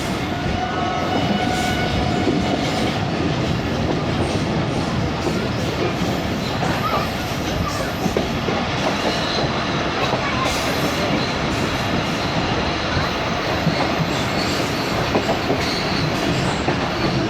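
Hazara Express passenger train rolls steadily along the rails with a dense, loud roar of wheels and carriages, broken by rhythmic clatter and occasional squeals, heard continuously from on board.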